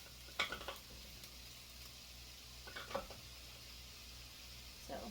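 Chicken sizzles steadily in a pan, a soft continuous crackle with occasional sharper pops and light clinks, close by and fairly quiet.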